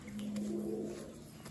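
Pigeons of the Madrasi, Rampuri and Malwai breeds give a low, steady coo lasting about a second, close by, over faint background noise.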